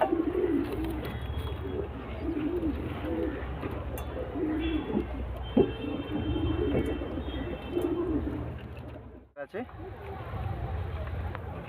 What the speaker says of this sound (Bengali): খুব সুন্দর পায়রা ডিমে আছে এখন